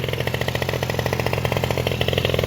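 A Honda Zoomer-X AF34 scooter with a freshly rebuilt engine and a hard-starting history revs close up, a loud, steady, buzzing small-engine drone that stays even throughout.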